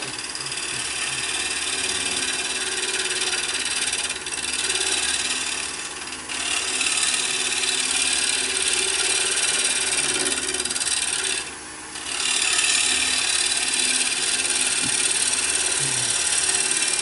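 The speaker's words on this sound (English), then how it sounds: "What I'm going to do is flatten the bottom first, and then make a recess mortise in the base." Steady rasping and rubbing of a hand tool working across the wooden base of a wig stand, a continuous close scraping with brief pauses, no talking.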